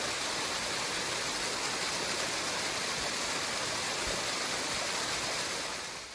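Water spilling into Eliza Brook, a mountain stream below South Kinsman Mountain on the Appalachian Trail, makes a constant close rushing roar that holds steady and fades slightly at the end, with no talking.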